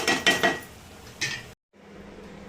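Steel utensils clatter while Andhra-style stuffed brinjal fry is served: a quick burst of close clinks and scrapes, one more clink a moment later, then a short silence before faint kitchen noise returns.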